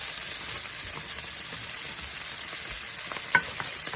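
Bacon strips fry in a pan with a constant, dense crackling sizzle at close range, loud and even throughout, with one sharp pop near the end.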